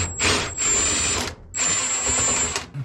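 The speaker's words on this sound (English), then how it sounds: "on the back side we've got 1, 2, and 3 screws to remove." Power drill backing screws out of the back panel of a GE washing machine: two loud, close whirring runs of about a second each, separated by a short pause, with a high steady whine.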